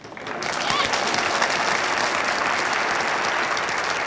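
A comedy show audience breaks into applause, quickly swelling to steady, sustained clapping from many hands that continues to the end.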